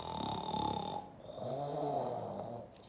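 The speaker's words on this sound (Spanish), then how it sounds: "siguió roncando" Snoring in a children's story, a slow rattling snore heard twice, with a brief pause between breaths and a faint tonal background under it.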